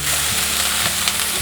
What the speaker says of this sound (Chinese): 快速的翻炒